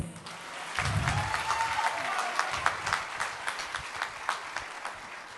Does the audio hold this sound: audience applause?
yes